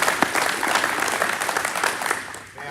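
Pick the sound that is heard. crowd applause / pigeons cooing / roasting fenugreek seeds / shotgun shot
crowd applause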